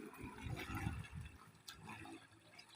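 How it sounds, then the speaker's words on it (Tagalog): Strong river current rushing past at close range, a steady broad wash of flowing water with no talk over it. "Lakas ng agos."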